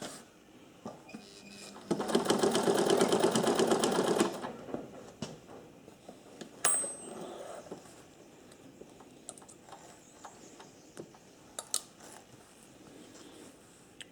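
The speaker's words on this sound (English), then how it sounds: "We'll try sewing 4 pieces" An old sewing machine stitches through four pieces of fabric in one loud, rapid burst of about two seconds, followed by quieter handling noises and a few faint clicks.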